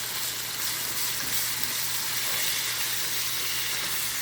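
One and a half pounds of hamburger meat browning in a pan for tacos, giving a steady, close sizzle with a continuous frying hiss throughout and no talk.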